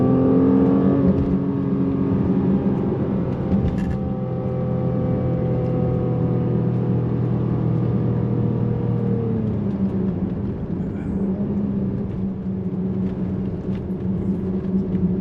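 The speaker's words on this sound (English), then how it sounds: "This engine is just so eager. That is the beauty about this. Listen to it." Mercedes-Benz GLC43 AMG SUV engine pulling hard under acceleration, a loud, steady, harmonic drone heard from inside the cabin that shifts in pitch partway through, with no talking.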